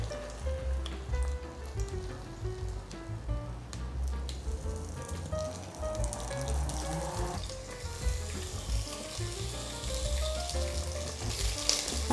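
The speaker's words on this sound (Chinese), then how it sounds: "把面肠放下去煎" Wheat gluten sausage pan-frying in oil alongside tofu skin rolls, a steady close sizzle and crackle with small popping spatters throughout, with no talking.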